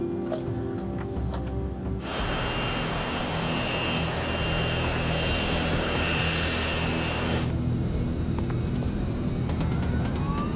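Airliner engines spool up to takeoff thrust with a loud, broad roar and a steady high whine that holds for several seconds, then drops back to a lower rumble.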